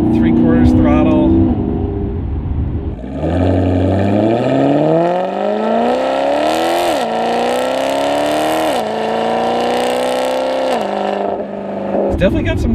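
A Maserati GranTurismo MC engine pulling at three-quarter throttle, its loud, close roar climbing in pitch through rising sweeps with brief dips between, while someone talks over it.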